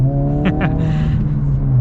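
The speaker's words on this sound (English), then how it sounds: "we'll get another little acceleration here" A 2025 Honda Civic Si engine revs up under acceleration, a steady close-up drone with a brief rise in pitch, running alone with no talking.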